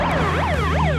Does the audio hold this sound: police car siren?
yes